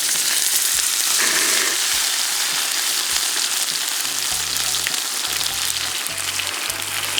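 A thick Korean Hanwoo beef steak seasoned with salt sizzles loudly and continuously on a grill outdoors beside a mountain stream, with a dense crackling spatter and occasional low knocks.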